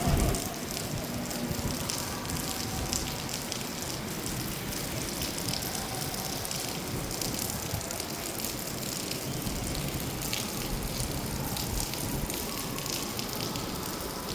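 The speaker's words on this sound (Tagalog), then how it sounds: "So maulan ngayon sa Davao City" Steady rain falls at night over Davao City, a constant, even hiss of drops across the whole span with no letup and no voices.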